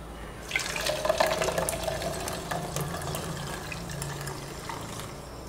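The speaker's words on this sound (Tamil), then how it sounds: "இப்போ இதை ஃபில்டரில் வடிகட்டுவோம்." Boiled tuber juice pours and trickles through a filter in a kitchen, a continuous splashing, dribbling stream heard up close with no talk over it.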